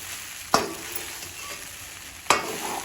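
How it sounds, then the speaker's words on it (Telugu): Poha with onions being mixed in a hot pan, a soft steady sizzle broken by two sharp, loud spatula knocks against the pan about two seconds apart. "పోహా వేసుకున్న తర్వాత మంచిగా ఆనియన్ కలిసేలాగా చక్కగా కలుపుకోవాలి"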